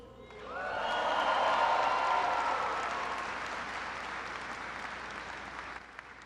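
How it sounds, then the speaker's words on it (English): An audience of troops at Fort Dix, a joint military base, gives a big round of applause for senior NCOs, swelling to a loud peak early and then tapering gradually, with scattered cheers mixed in. "Give a big round of applause for your incredible senior NCOs"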